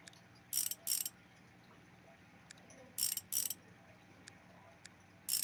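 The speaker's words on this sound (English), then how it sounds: "let's get these bolts out" Short bursts of a bolt being unscrewed on a motorcycle in the game Motorcycle Mechanic Simulator, two quick ratcheting spins, then a pair more, with faint isolated clicks between them over a quiet background.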